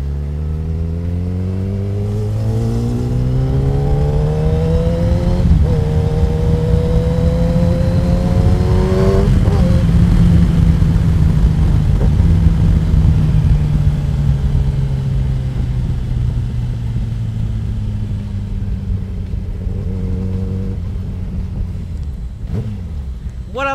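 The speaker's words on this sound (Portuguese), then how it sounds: "esse escapamento aqui deixou a moto com ronco espetacular" A Kawasaki ZX10R motorcycle engine with an aftermarket exhaust rumbles deep and loud, revving up and easing down in long sweeps, the throaty exhaust droning close by throughout.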